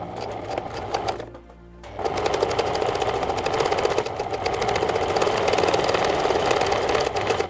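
A sewing machine stitches the strap of a fabric cutlery roll, running in a fast, steady whir that stops briefly near the start and then continues loud and unbroken to the end.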